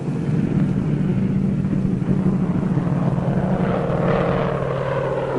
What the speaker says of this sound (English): we got into the airplane and took off